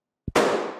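A sudden explosion sound effect: a short thud, then a loud burst that decays over less than half a second.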